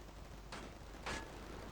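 Two short, sharp pops of gunfire in the video game Combat Mission Shock Force 2, about half a second apart, moderately loud over a low steady rumble of background noise.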